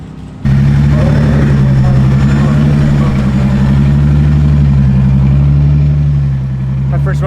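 A Toyota Supra at a drag launch: a loud, steady engine drone sets in abruptly and holds near, with a slight sag toward the end, as voices talk over it.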